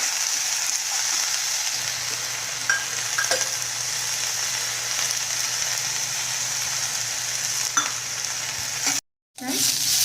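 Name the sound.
roasting mint leaves in oil, stirring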